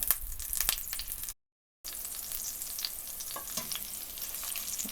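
Zucchini frying in a pan until golden on both sides, a steady close crackling sizzle with light spits, briefly cut to silence once, no voices.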